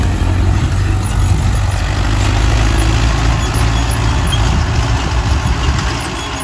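An Arjun 555 tractor engine runs in a field, a loud, continuous low diesel drone that holds steady throughout and eases off slightly at the very end.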